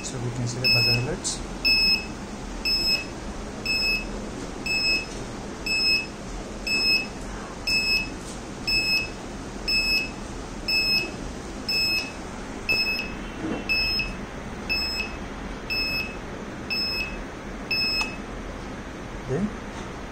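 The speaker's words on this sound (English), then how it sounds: "So we can see the buzzer alerts." A high electronic buzzer alert on a coin-based mobile charging system beeps in short, evenly spaced pairs about once a second, ringing steadily over low background noise.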